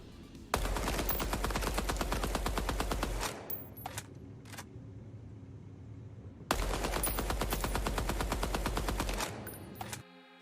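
Automatic gunfire in the shooter game Deadrop comes in two long, loud, rapid bursts of evenly spaced shots, with a short pause between them.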